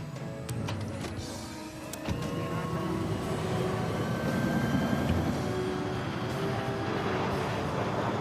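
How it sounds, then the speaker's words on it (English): A jet airliner rumbles steadily on its takeoff run, a loud continuous roar that swells slightly over the span, with a few faint clicks and rattles from inside the cabin. "PanCon 257, you're clear for takeoff."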